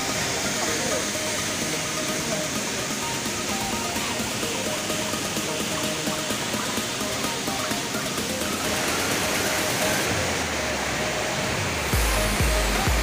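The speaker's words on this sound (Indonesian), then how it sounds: "Aliran air dari air terjun ini mengalir ke bawah menuju ke sungai" The Montel waterfall in Indonesia roars steadily, a dense, unbroken rush of water splashing over rocks into a rocky river, loud and close the whole time.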